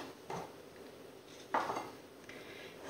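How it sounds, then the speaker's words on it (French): Sugar is mixed in a mixing bowl, with a few sharp clinks and scrapes of a utensil against the bowl, one louder knock in the middle, over a faint background. "dans le saladier, on mélange le sucre d'abord"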